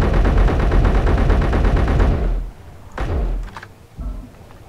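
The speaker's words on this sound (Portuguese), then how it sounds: "Dá pra dar tiro a rodo." Rapid full-auto gunfire from a 50-round weapon in a space-themed Minecraft-style video game, a loud sustained burst that stops abruptly, followed by a few isolated thuds.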